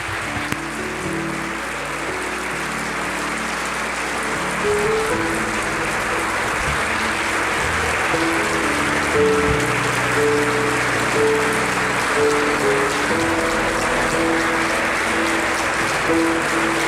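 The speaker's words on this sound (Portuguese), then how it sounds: "Nos levantamos para aplaudir o nosso Rei." A congregation standing and applauding their King during a pastoral ordination service in church, sustained loud clapping that swells slightly and carries on throughout, with a low sustained tone beneath it.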